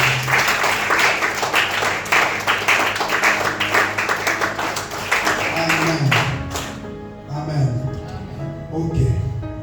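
A church congregation claps together for about six seconds, dense and loud, during a service. The clapping then thins out and gives way to voices and low tones.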